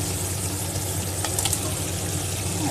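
Steady, loud sizzling of tomatoes added to fried garlic in a hot pan, a constant crackling hiss with a few brief brighter spatters.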